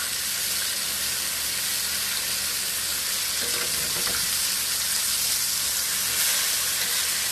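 Pork chops frying in a pan at home, a steady close sizzle and hiss throughout with a few faint clinks partway, no talking.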